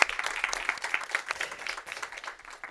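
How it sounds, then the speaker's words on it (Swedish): A small group at a seminar claps in quick, uneven bursts, fairly soft and fading slightly toward the end. "Jag tycker vi välkomnar dem med en applåd."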